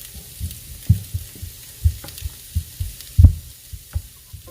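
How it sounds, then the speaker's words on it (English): Creamy enchilada sauce simmering in a pan, with soft bubbling pops and low sizzling at a steady uneven rhythm, close and moderately loud, with no voices. "our sauce is simmering and becomes thicker"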